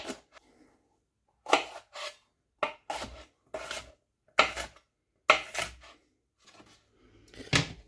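A kitchen knife chops onion and diced bell pepper on a board in about ten separate crisp, scraping cuts in short clusters, close and clear with silent gaps between strokes, no one talking.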